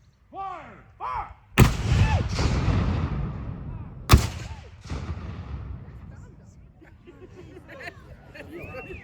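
Civil War artillery cannons at a demonstration firing one after another: two sharp, loud blasts a few seconds apart, each rolling away with echoes, over crowd chatter and spoken commands.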